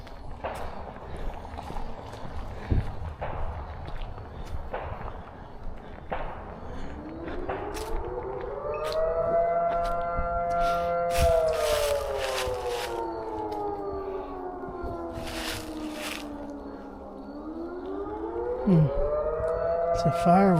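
A fire siren wails during an outdoor walk on a paved road. The tone rises and holds, then falls and climbs again, loud and sustained over footsteps and scattered thumps.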